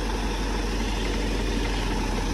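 Steady diesel drone of the Cummins engine on a railway track jack machine, a continuous loud low idle with vibration and no change in pitch.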